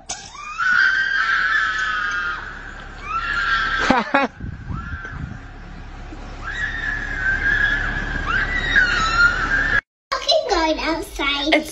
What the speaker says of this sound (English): It's just a goat.